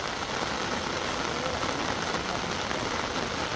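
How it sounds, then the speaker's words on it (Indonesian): Heavy rain pours down at an eroding, landslide-prone hillside construction site, a loud, dense and unbroken hiss of falling water with no talk. "Semakin deras hujan dan tanah ini juga terkikis-kikis ya."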